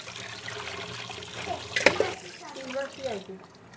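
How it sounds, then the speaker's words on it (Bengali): Running water splashes as catla fish pieces are washed, with a steady trickle broken by a few louder splashes. A voice talks over it. "এখন আমি এটা পিস পিস করে ভাগ ভাগ করব একটু ধুয়ে নিই সুন্দর করে ধুয়ে নিচ্ছি"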